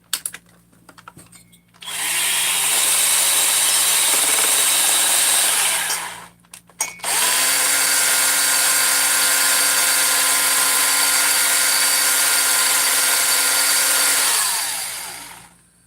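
A power drill spins Scotch-Brite balls wrapped with extra Scotch-Brite pieces while porting a 394xp chainsaw, a loud steady whine in two long bursts with a short pause between them.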